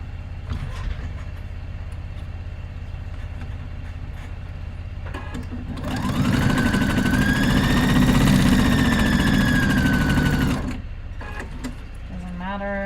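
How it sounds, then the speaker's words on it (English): A sewing machine runs back and forth over elastic in one loud, close, steady burst of about five seconds, then stops. A humming background and some handling noise fill the rest. "I'm going to sew back and forth on the elastic and then sew the little channel"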